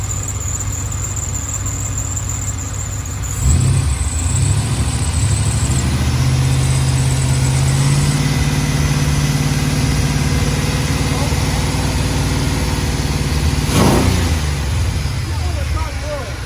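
A hot car engine idles loudly and steadily nearby, rising in pitch with a couple of revs, while people talk over it.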